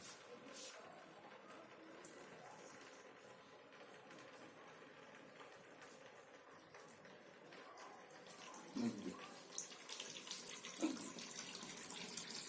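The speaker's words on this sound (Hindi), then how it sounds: "पानी इधर बाहर आ रहा है" Water trickling and flowing steadily out of a plastic bottle during a cigarette smoke experiment, a faint continuous splashing stream that grows a little louder toward the end, with soft bumps and handling noises.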